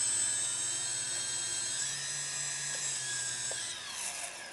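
Small electric drone motors spin with a high, thin whine whose pitch slides up and down as the throttle changes, steady and fairly close with no speech.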